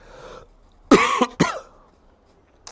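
Two sharp, close coughs in quick succession, loud against an otherwise quiet background.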